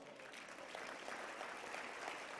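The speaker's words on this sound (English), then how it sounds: "So please give yourselves a round of applause." Audience at an annual charity celebration gala applauding together, a steady, dense wash of hand claps that holds at an even, fairly soft level throughout.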